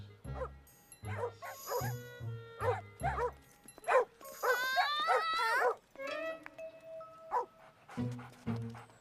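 Dogs in an animated children's cartoon bark in a rapid run of loud, close barks, then break into yips, whimpers and whining howls, with more barking at the end.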